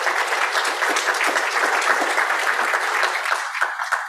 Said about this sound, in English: maybe a round of applause for him first